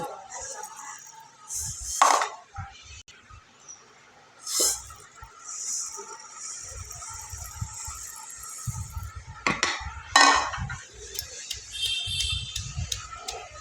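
Roasted rice and coriander seeds are pounded in a stone mortar. Dull, irregular low thuds come up close with pauses between them, and a few sharper clinks and breathy noises are mixed in.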